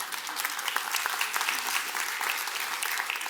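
Audience applause at a mayor's 2024 State of the City address, a steady wash of many hands clapping throughout, fairly loud and continuous with no talking.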